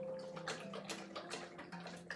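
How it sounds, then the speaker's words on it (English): A mastiff puppy laps water indoors in quick, rhythmic licks that stay quiet and even throughout. "You can't just drink water."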